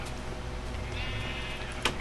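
Sheep bleating in a blocky Minecraft-style survival game while colored sheep are herded around a farm; a steady, fairly loud game soundscape with a drawn-out bleat near the middle and a short sharp sound near the end.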